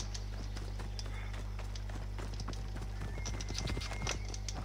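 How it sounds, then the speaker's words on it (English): A horse in the video game Assassin's Creed Odyssey, its hooves clip-clopping in a quick, uneven patter over a low steady hum, with a faint whinny. "Hello, horsey."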